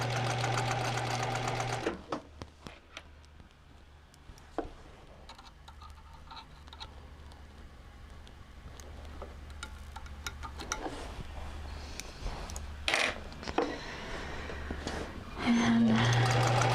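A sewing machine stitches fabric in a quiet setting, its motor whirring in steady bursts that stop and restart, with soft handling noises and faint movement between runs and no talk.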